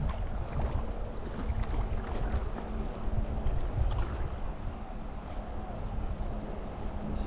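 A boat runs through a small rapid on the Snake River, giving a steady, close wash of rushing water mixed with wind buffeting the microphone, with no clear voices.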